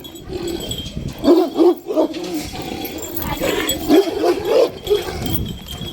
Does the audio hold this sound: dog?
yes